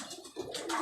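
A pigeon of a mixed breed kept on a rooftop gives a short, faint coo, heard alone and quiet.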